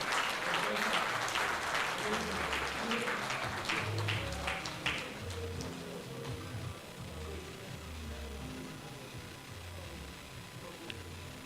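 An audience applauds at a national tribute ceremony for the late Chief Mbazulike Amechi, with loud, busy clapping at first that thins and fades over several seconds while a voice speaks over it.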